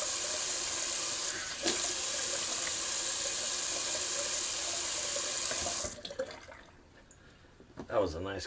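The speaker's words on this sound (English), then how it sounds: "Just throwing a little cold water on the face." A bathroom tap runs in a loud, even hiss for several seconds while cold water is splashed onto the face, then cuts off, leaving a few drips, quiet handling noises and a brief voice.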